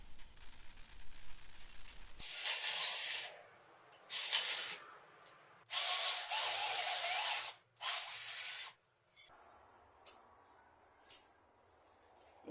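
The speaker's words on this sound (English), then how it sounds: "get all the sharp edges ground off, nice and tidy" An angle grinder takes sharp edges off shaped metal, giving several loud hissing bursts of one to two seconds each, separated by short pauses.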